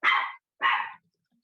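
A dog gives two sharp, close barks in quick succession, each short and loud, with silence after.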